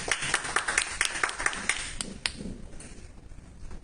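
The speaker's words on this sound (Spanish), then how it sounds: "Vamos a brindarle un aplauso" A small audience applauds at a book discussion, with brisk, close hand claps that thin out into a few scattered claps and quiet room noise.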